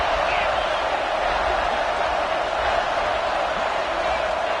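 A stadium crowd at a college football game against Tennessee roars in a dense, continuous wall of cheering and noise that holds steady and loud from start to finish.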